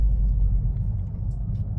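A car engine, from a car compared to an A45 AMG, rumbles low and steady from inside the cabin with a window open, a continuous close drone without speech.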